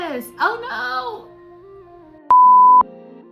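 A phone emits a loud, sustained electronic error beep lasting about half a second, followed by lower warbling tones, after brief speech and a quiet pause.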